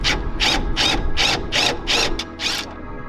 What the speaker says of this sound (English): use a pair of pliers to pull the cotter pin out of the castle nut